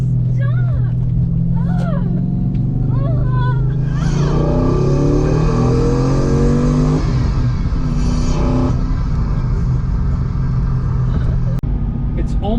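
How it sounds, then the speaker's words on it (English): A car's engine intake noise amplified through the car stereo, making it sound like individual throttle bodies: a loud, droning, rising revving roar with harmonic sweeps, sustained and close, ending abruptly. "this intake amplifier makes the car sound like it has individual throttle bodies"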